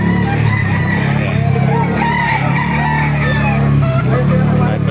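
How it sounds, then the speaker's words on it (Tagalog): Chickens and roosters at a busy poultry market in Baliuag, constant clucking and crowing layered over a steady crowd hubbub, loud and close with voices talking underneath. "Isa-isa pa natin mga manok dito."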